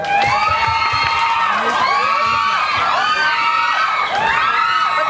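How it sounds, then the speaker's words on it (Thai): A crowd cheers and shouts loudly and steadily over music with sustained tones, with high whoops rising throughout; any clapping is buried under the cheering for the band. "ขอเสียงปรบมือให้วงแบ็กอัพอีกครั้งครับผม"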